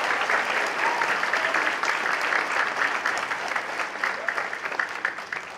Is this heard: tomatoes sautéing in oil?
no